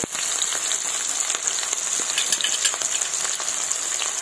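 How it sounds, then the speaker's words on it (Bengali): Two chopped onions fry in hot oil after whole spices, giving a loud, continuous close-up sizzle with fine crackling throughout. "এবার আমি এর মধ্যে দিয়ে দিচ্ছি দুটো পেঁয়াজ কুচি"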